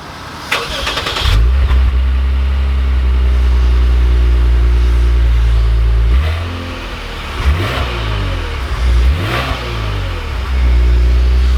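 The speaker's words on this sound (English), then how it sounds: "let's take this IS350 out and see how it drives" A 2020 Lexus IS 350 F Sport AWD starts up and revs hard, with a loud, close engine note rising and falling through several sweeping pulls before it settles into a steady drone. No one speaks.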